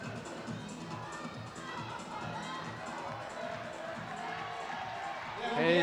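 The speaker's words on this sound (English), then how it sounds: "you can really hear the crowd getting behind these athletes here" At a Climbing World Cup lead semi-final in Kranj, a large crowd cheers and shouts steadily in the background, swelling louder near the end, under a commentator's voice.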